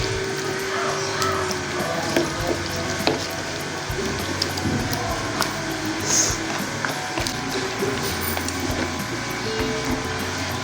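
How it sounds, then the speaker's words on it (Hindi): Beef karahi simmers over a low flame in a home kitchen, giving a steady, soft sizzle and faint bubbling with occasional light clatter throughout. "ये अब लो फ्लेम पे हम इसको पका रहे हैं।"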